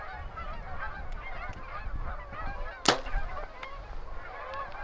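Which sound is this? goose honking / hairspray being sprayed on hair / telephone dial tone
goose honking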